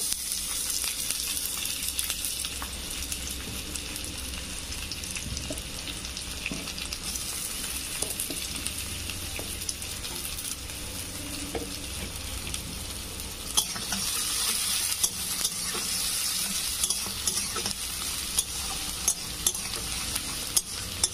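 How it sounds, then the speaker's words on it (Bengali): Chopped onions frying in a pan for egg chilli, a continuous even sizzle with light stirring clicks throughout, steady and fairly close with no talking. "পেঁয়াজটা একটু আমি ভেজে নেব।"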